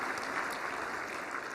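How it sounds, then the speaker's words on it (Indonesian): Steady applause from an audience at a public service and bureaucratic reform awards ceremony, a dense, even clatter of many hands sustained without a break. "Sekali lagi tepuk tangan buat seluruh hadirin"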